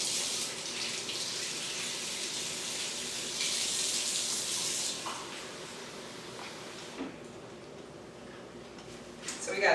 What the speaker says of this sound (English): And we will add some water here